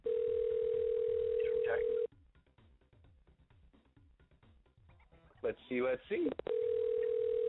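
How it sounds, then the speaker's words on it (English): A steady telephone line tone sounds on a phone call, continuous for about two seconds, then drops away under quiet talk before returning loud and unbroken at the end. "I got the phone ringing. Ring-a-ding-ding."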